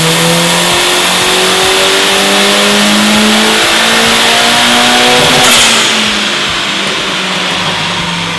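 A Mitsubishi Lancer stroker engine with Haltech closed-loop boost control revs hard through a dyno power run, a loud sustained climbing roar with rising harmonics that peaks and then drops off abruptly.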